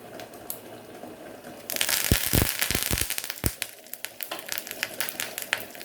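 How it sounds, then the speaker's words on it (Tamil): Mustard seeds, urad dal and a few curry leaves hit hot oil in a tempering for mango pachadi, bursting into a loud sizzle with sharp popping crackles that gradually thin into scattered pops. "கொஞ்சோண்டு கடுகு, கொஞ்சோண்டு உளுந்தம்பருப்பு, 4 5 நல்லா கருவேப்பிலை சேர்த்துக்கிறேன்"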